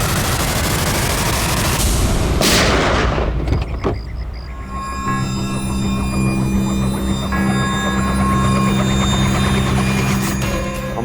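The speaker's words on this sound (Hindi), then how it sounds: "लो रिवॉल्वर और चलाओ गोली" A revolver gunshot: one sharp blast early on, then a booming low rumble and a steady hum that carry on to the end.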